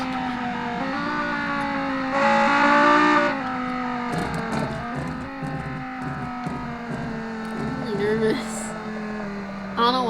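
A race car engine in a GBGT1 race drones loud and steady, its pitch rising and falling through gear changes and revving up sharply twice, heard close and continuous throughout.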